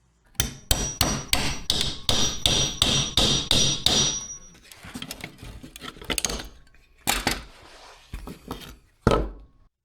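Hammer blows on a BMW E46 Touring's rear body panel, about ten sharp metallic strikes in a steady fast rhythm, then scattered clanks and scraping, a few more isolated hits and a final loud one.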